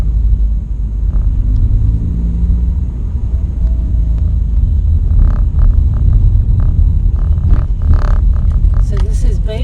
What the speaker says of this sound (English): Just going to rev it up, then clutch out.